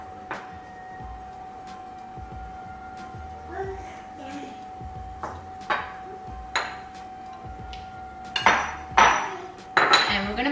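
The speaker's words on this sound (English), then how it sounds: "Mixing all together." Zucchini slice ingredients being stirred together in a bowl by hand, with intermittent clinks and scrapes of utensil against the bowl that grow louder and busier toward the end, over a faint steady background hum.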